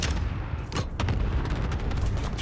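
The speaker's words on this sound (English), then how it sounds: "Cluster strike away" Cluster strike explosions in Call of Duty Warzone roll in as a dense, continuous barrage of loud overlapping blasts and crackling detonations, with sharper bursts standing out near the middle.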